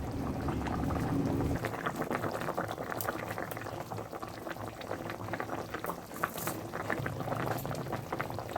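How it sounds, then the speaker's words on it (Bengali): Bengali fish curry with mustard paste bubbling in a pot, a continuous close boiling and gurgling with a few small splashes throughout. "আর একটু ফুটে আসুক"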